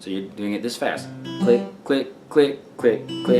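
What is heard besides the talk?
No distinct noise like a dog, phone or traffic.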